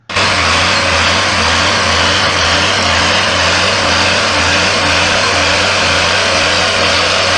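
A tractor engine runs loud and steady from start to finish, a constant droning rumble heard from the operator's cab while the tractor works with a harrow, with no talk over it.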